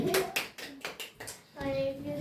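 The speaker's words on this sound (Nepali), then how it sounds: "ताली" Several quick rounds of hand clapping at a girls' quiz competition, sharp and close, mixed with children's voices talking.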